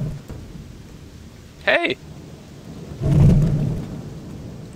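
Lightning spell strikes in the video game Gothic 2, two thunderous crackling bursts: a sharp crack first, then a deeper rumbling blast, with a short shout between them.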